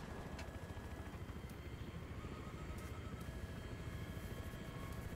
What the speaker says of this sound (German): Dann bin ich einfach in den Heli reingeflogen.